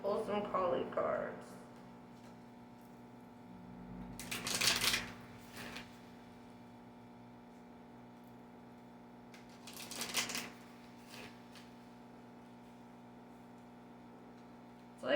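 A deck of Kali oracle cards is shuffled in two short rustling bursts, faint and close, over a steady low electrical hum in a quiet room.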